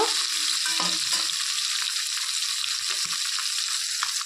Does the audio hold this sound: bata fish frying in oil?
yes